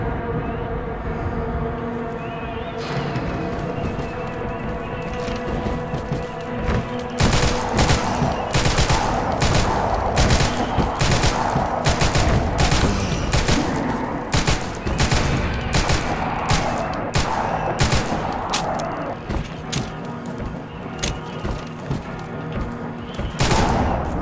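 Rapid automatic gunfire from the first-person shooter Total Chaos running on GZDoom, a dense burst of loud repeated shots over a steady droning in-game ambience, with no talking.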